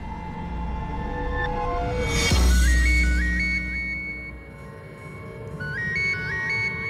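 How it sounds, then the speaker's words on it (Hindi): Mobile phone ringtone sounding as a wife calls, a bright repeating electronic melody heard close and clear, with a low rumbling swell midway before the tune returns. "मेरी वाइफ का फोन।"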